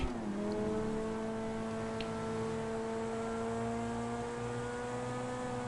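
In GTA 5, a car engine holds a steady, droning rev with a slowly rising pitch that stays loud and close from start to finish.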